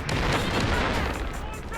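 Dense, noisy bursts of booming grenade explosions and gunfire in the video game Delta Force crowd together, loud and chaotic, with a voice mixed in underneath.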